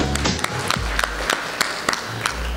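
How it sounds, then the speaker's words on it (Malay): Steady applause from an audience at a Malaysian awards ceremony for a short-video competition, many hands clapping in a dense, even patter throughout, with a low hum underneath and no talking. "Sekali lagi tepukan untuk Kolej Marakulim."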